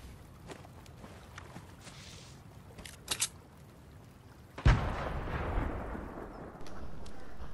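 Grenade going off in a video game, a sharp blast near the middle followed by a rumbling, noisy tail, preceded by quieter clicks and game effects.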